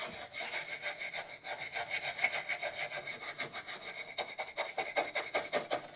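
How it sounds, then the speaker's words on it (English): A brass wire brush scrubs rust off a riding mower steering part in steady, rapid back-and-forth strokes, a close, continuous rasping scrape with a regular rhythm and no voices. "Maybe I'll just take a brass wire brush."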